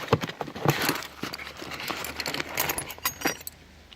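A small wrench and screwdriver from a NAC CST45 chainsaw kit clatter and jingle as they are handled, with irregular clinks and scrapes close by.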